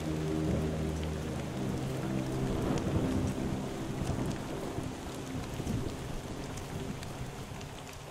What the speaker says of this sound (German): Obwohl Sommer ist, regnet es viel und stürmt viel.